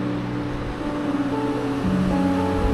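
Mountain river beside a trekking trail near Namche in Nepal's Everest region, a steady, close rushing roar of water with a low humming drone running underneath throughout.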